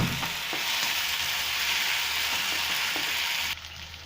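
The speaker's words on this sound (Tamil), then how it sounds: "இப்போது ஒரு 5 நிமிஷம் இந்த மாதிரி நல்லா ஃப்ரை ஆகிட்டு இருக்கட்டும்." Chilli chicken fries steadily in a pan after curd has been added, a dense, continuous sizzle that holds loud and even for several seconds before dropping slightly near the end.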